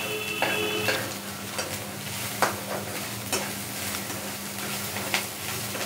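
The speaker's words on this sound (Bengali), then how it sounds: "সব কিছুই দিয়ে দিলাম, দিয়ে আমি এটা সমানেই নাড়তে থাকছি।" Upma ingredients are stirred continuously in a frying pan, a close sizzle with repeated scraping strokes and light clinks of the spoon against the pan, no talking.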